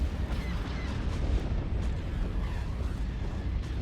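Small flak bursts pop and rumble in a Star Wars space strategy game, a dense, continuous barrage of distant muffled explosions and low booms with no talk.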